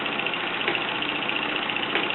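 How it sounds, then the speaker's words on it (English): A 1948 Mamod SE2 toy steam engine with a brass-wheeled workshop runs at a steady pace, giving a soft, continuous hissing chuff close by with no talk over it. "So there you have it, a 1948 SE2 engine, complete with its workshop, still very much in the land of the living."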